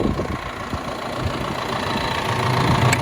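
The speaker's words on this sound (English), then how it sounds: "I made it up to this site with the 6105R and the snow blower on." John Deere 6105R tractor running with a snow blower attached during a snowstorm, a steady close engine drone with a low knocking rumble that swells slightly toward the end.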